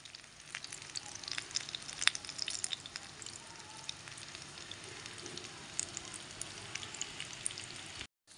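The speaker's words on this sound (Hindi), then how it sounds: "इस तरीके से हम सारे कबाब को फ्राई कर लेंगे।" Potato and egg kebabs fry in oil, a crackling, spitting sizzle with scattered sharp pops over a steady hiss, fairly quiet and close, running continuously before cutting out just before the end.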